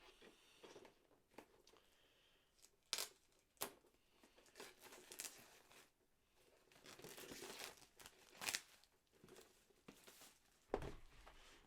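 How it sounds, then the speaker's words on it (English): Cellophane wrap being torn and peeled off a boxed Tyranid Tyrannocyte model kit, heard as close, irregular crinkling rips and crackles in bursts, with no talking. "I'm going to get the cellophane off"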